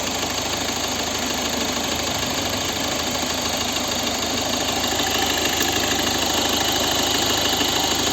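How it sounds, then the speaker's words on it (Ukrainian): A warmed-up 1.6 HDI diesel engine of a 2011 Volvo V50 idling close by, a steady rough clatter that holds an even rhythm throughout with no talking. "Ось робота двигуна."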